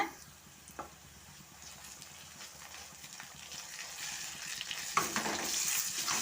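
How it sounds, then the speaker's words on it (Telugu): Ginger paste frying in a pan with fenugreek leaves, a steady soft sizzle with occasional stirring scrapes that grows louder toward the end. "ఇదిగోండి ఇక్కడ అల్లం పేస్ట్ కూడా వేసేస్తున్నా అల్లం పేస్ట్ కూడా ఫ్రై అయిందంటే టమాటాలు వేసేసుకోవడమే"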